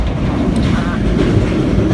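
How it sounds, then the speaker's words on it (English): An overnight southbound passenger train in Vietnam rumbles along with a loud, continuous low clatter and rattling carriage noise, a constant roar throughout. "It's not the fastest train in the world, and it's not the quietest either."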